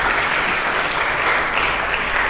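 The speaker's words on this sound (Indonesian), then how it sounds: "Mari kita berikan tepuk tangan bagi Yesus Kristus." A church congregation applauds during a sermon, producing a loud, continuous, even wash of clapping from many people with no pauses.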